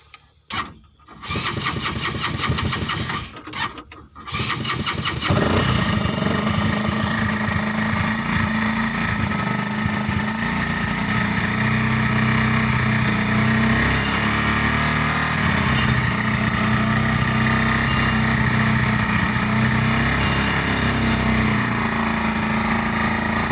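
A Thunder 125 motorcycle engine fitted in a Carry minivan cranks in a few rough bursts, then catches and settles into a steady, loud, buzzing idle that runs on without pause.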